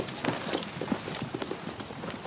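Horses' hooves clip-clop in a brisk, uneven rhythm at close range, several sharp taps per second, ending in a sudden louder sound, with no talking.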